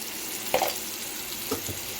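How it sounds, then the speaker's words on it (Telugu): Onions and curry leaves frying in a pan for a bitter gourd gravy, a soft steady sizzle with two brief clinks or stirring knocks partway through, close by with no talking. "కరివేపాకు ఫ్లేవర్ బాగుంటుంది ఉల్లిపాయలు వేసేస్తున్నాం"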